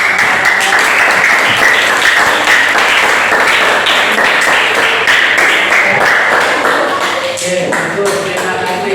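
Classroom audience applauding after a student's lesson presentation, a steady dense clatter of clapping filling the room, with some voices mixed in.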